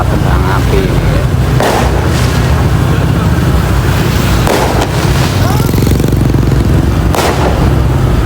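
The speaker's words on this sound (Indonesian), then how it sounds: "acara ketupat, ini pesta kembang api ini ya." Fireworks burst at a Lebaran Ketupat village festival in Sukorame, Gandusari, with several loud, sharp bangs spaced a few seconds apart over a constant, heavy rumble of background noise and crowd.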